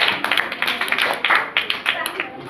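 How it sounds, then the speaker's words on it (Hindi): Audience clapping for students at a school science activity, a dense patter of hand claps running steadily throughout with a voice talking over it. "चलिए जोरदार ताली बजाइए आप लोग"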